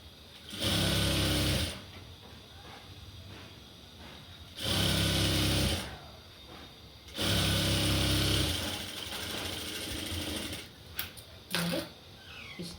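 An electric sewing machine stitches a frill sleeve a half inch from the edge, running in three loud, steady bursts with quiet pauses and some brief clicks near the end.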